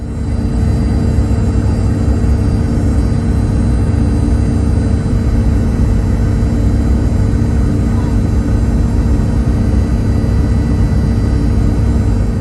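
Virgin Australia airliner taxiing at Brisbane Airport toward runway 01 left, a steady loud cabin engine rumble with a constant drone and hiss throughout, no clear talk.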